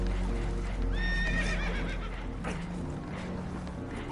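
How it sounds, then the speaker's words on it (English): Spooked horses neigh and whinny in Red Dead Redemption 2, a loud shrill whinny rising over a steady rumble of water and boat noise, with hoof clatter and further horse sounds following. "Horses are spooked, and we're taking on water."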